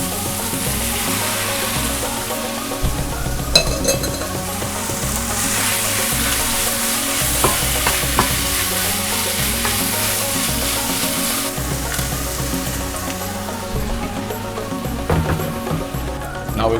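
Squid sizzles and is stirred in a pan for an Indonesian Sulawesi-style dish, a steady frying hiss broken by scraping and clinking of the utensil, with a voice talking over it.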